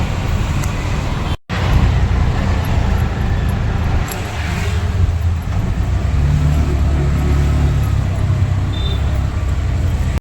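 Dense Mumbai road traffic surrounds the listener: steady engine rumble and passing vehicles, loud and continuous, with a brief dropout near the start.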